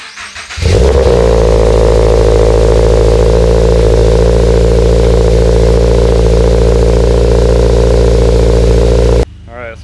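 A Toyota GR86 fitted with a JDL front pipe exhaust cold-starts with a sharp crank and catch, then settles into a loud, deep, steady idle close by before cutting off abruptly near the end.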